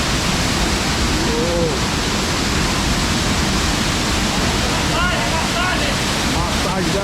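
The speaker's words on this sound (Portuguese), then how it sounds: "Olha o Ailton debaixo da cachoeira" Pedra Furada waterfall in Amazonas, heard as a steady, close, rushing roar of falling water, with faint voices briefly in the background.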